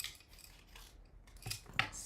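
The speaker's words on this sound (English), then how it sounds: "Now I'm just going to take and cut this" Scissors cut card-making paper at close range: soft rustling, then two sharp snips near the end, quiet and alone.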